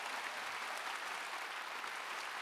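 A large congregation at a church rally in a gymnasium claps together in steady, dense applause, heard somewhat distantly and without voices over it.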